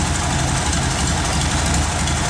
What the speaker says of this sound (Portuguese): ficou mais bonitinho o funcionamento do motor